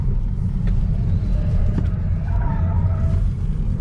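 A Geely Geometry C electric car accelerates on a test drive, heard from inside as a loud, steady low road rumble with faint whine and no distinct engine note.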